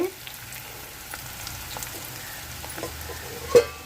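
Onions frying in a pan for cucumber and dry prawn curry, a soft steady sizzle with scattered faint crackles and one sharper clink near the end.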